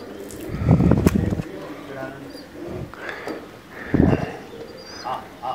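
Pigeons coo in soft, low bursts as they return to a loft after a flight contest, heard close and mixed with people talking nearby.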